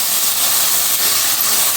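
Carrot and potato pieces sautéing in a pan for a sago and chana dal tiffin, giving a steady, loud, continuous hissing sizzle with no talk.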